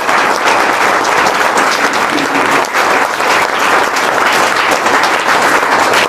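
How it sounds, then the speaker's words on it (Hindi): Loud, continuous audience applause at a police recruitment guidance and motivation event, many hands clapping densely and steadily throughout, close and full. "फिर से एक बार इनके जोरदार तालियां।"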